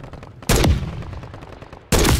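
Two loud gunshots ring out in a Call of Duty campaign battle, about a second and a half apart. Each is a sharp crack followed by a short echoing decay.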